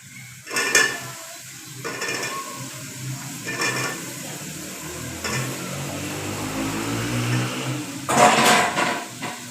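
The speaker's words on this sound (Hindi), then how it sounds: "घी में हम थोड़ा सा फ्राई करेंगे" Aloo wadiyan frying in ghee with potatoes, a steady low sizzle beneath clinking metal utensil knocks and stirring against the pot, close and moderate in level.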